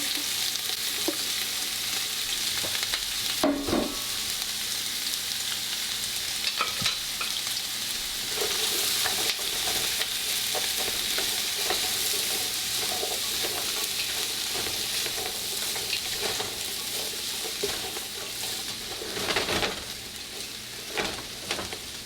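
Vegetable mixture with onions sizzling steadily in hot oil in a pan while cooking chili, a dense continuous fry with occasional stirring clatter, close and loud, no voices.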